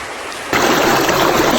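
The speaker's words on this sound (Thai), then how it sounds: "วันนี้พามาเล่นน้ำตกครับ" Waterfall and stream pouring with a loud, steady broadband roar that jumps up abruptly after a quieter opening moment, the rushing water close and continuous.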